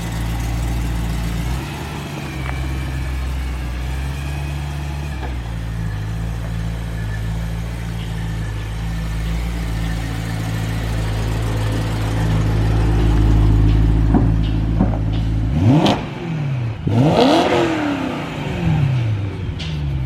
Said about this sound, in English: Sounds like shit. What does it need, Greg? Sounds like shit. We need a new exhaust